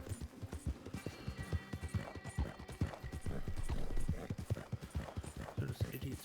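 Horse hooves from a video game clip-clop in a quick, steady rhythm throughout, with a faint snort or whinny, under a person talking.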